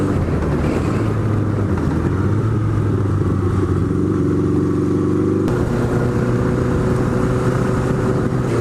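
An old Honda Nighthawk motorcycle rides along with a leaky exhaust, its engine note close and loud, a steady droning hum that shifts pitch as the rider changes speed, with no talking.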